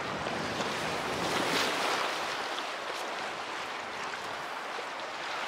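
Waves washing onto the shore at Kathy Osterman Beach on Lake Michigan in Chicago, a steady, broad wash of surf with wind rushing across the microphone, constant and fairly loud throughout with no talking.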